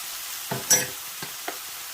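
Low-sodium soy sauce hitting a frying mushroom and wheat berry pilaf, with a few short, soft sizzling bursts and stirring sounds over quiet pan noise.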